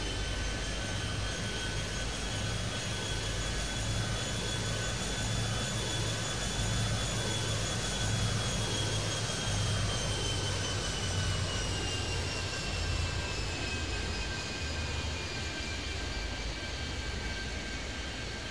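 A jet airliner takes off in the video game Airport Madness 3D at Kingston, a loud sustained turbine roar whose whining tones slowly bend and shift as the engines spool and the aircraft rolls away.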